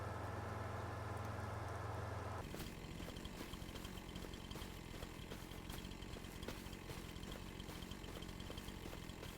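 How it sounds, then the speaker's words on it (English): Steady engine drone from a slow tractor in Farming Simulator 25, a continuous mid-level hum with a lower, tonal rumble in the opening seconds, then a rougher, busier running sound with small clicks and knocks, no voices. "this is not a very fast tractor, but it's not that far away"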